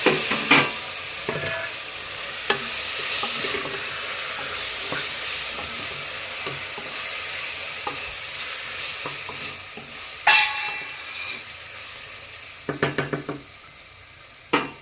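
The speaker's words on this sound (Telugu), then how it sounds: "ఇప్పుడు మనం దీంట్లోకి కట్ చేసి పెట్టుకున్న 2 టమాటా ముక్కలు వేసేద్దాం" Okra and tomato pieces cook in a pan with a constant low sizzle, broken by occasional spoon scrapes and a quick burst of clattering stirs near the end, close and without speech.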